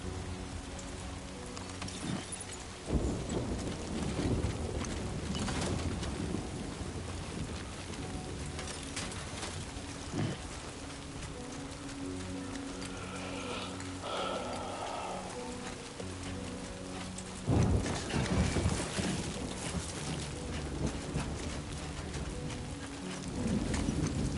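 Continuous patter of heavy rain in a video game with occasional low rumbles of thunder, steady throughout with a few louder bursts.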